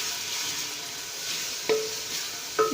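Roughly chopped onions fry with ginger and garlic in a pan for kadhi pakora, a steady soft sizzle broken by two sharp clinks of a stirring spoon, with no talk.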